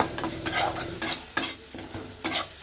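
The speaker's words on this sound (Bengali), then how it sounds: "এখানে মশলাটা কষানো হচ্ছে" Spiced masala being sautéed in a pan for aloo dum, heard as several separate scraping stir strokes with a light sizzle and metal utensil clinks, close and fairly quiet, with no voices.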